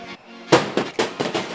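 Firecrackers bursting at a Kandy SC rugby final in Sri Lanka, a rapid series of sharp, loud cracks spaced about a quarter second apart, echoing over crowd noise.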